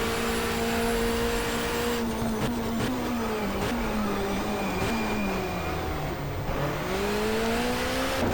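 A touring car engine in the GTR2 racing game, from the 1994 Asia-Pacific Touring Car Championship, hums at a steady pitch with small dips and quick gear changes, droning loud and constant, with no voices.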